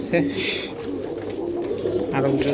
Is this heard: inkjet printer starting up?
no